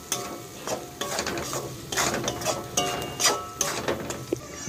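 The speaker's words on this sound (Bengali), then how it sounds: "ভালো করে মশলাটা কষিয়ে নেব।" Spice masala with red chilli powder and green chillies is stir-fried in a pan for a bitter gourd curry, a close, steady sizzle broken by scraping stirs of the spatula, with no voices.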